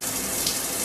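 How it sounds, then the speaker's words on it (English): Hot water runs hard from a tap in a cartoon scene, a steady, close, full hiss of gushing water lasting under a second with no talk over it. "Who turned the hot water on?"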